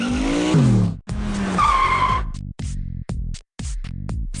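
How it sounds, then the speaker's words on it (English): A fancy sports car speeds off with loud tire squeals and a revving engine, cut into several abrupt bursts with brief silent gaps between them, heard alone and up close. "She jumped in a fancy sports car and sped off to the royal ball."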